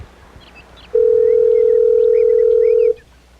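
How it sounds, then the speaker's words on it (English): A telephone call rings out with a single loud, steady tone lasting about two seconds, standing alone over a faint background hiss. "Listen to the phone ring for a little bit, see if they're going to answer."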